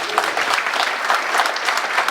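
Audience clapping at a 40th anniversary celebration of a Kappa Alpha Psi fraternity chapter: loud, dense applause from a close crowd, sustained and even across the clip.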